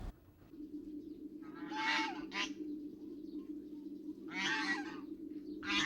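Ducks kept by villagers in a tribal settlement, with bursts of loud, harsh quacking or honking calls in two clusters over a steady low background hum.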